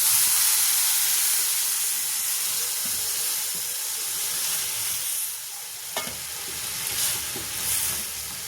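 Finely puréed tomato paste sizzles in a hot pan for tomato saar, a steady, close hiss with soft stirring scrapes and a few sharper spatters near the end.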